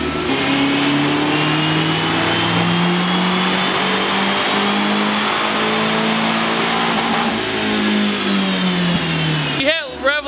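Stock Nissan 240SX or Lexus SC300 engine held at high revs, its loud, steady drone bouncing off the rev limiter with slight pitch sways for about ten seconds before cutting off abruptly.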